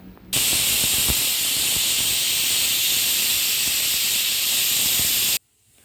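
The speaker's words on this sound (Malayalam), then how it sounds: "രണ്ട് വിസിലടിച്ച് ഇനി സ്റ്റൗ ഓഫ് ചെയ്യാം." Steam hisses loudly from a pressure cooker cooking yam and cowpeas on a stove, a single sustained, harsh, close burst of about five seconds that cuts off abruptly, with no talking.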